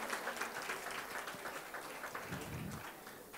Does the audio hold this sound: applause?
yes